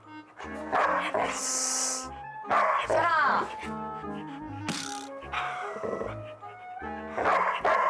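A small pet dog barks, yips and whines in excited, uneven bursts close by indoors, while a person talks over and between the sounds.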